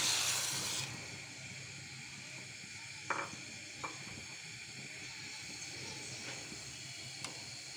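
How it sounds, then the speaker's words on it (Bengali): Sago is stirred in a pan as a faint, steady hiss with a few soft, scattered scrapes of the spoon against the metal. "তার জন্য নাড়াচাড়া করতে হবে বারবার এভাবে"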